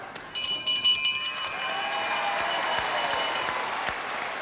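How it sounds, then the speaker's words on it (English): Audience applause at a 1970s professional wrestling bout, rising after a bell-like ringing tone signalling the end of the match, steady clapping from a crowd at moderate distance that continues to the end. "there's the applause that shows the appreciation for these two fellows putting up a wonderful contest"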